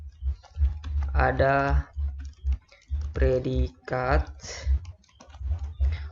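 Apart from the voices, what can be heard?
typing a Visual Prolog script on a computer keyboard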